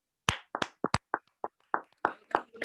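A few hands clapping at a business meeting as a speaker is called to the stage, about a dozen sharp, separate claps in an uneven rhythm against near silence, with no talk.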